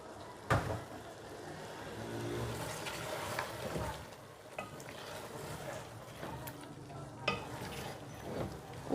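Fish curry masala with about two tablespoons of coriander fries in a pan, giving a soft, steady sizzle broken by intermittent spoon scrapes and clanks. Faint speech can be heard at moments.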